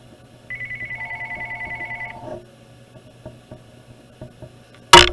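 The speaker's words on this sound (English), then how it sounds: "let me see if I can stop that phone from ringing." A telephone rings with a rapid warbling trill that lasts about two seconds, followed by quiet ticking in the room and a loud sharp burst at the end.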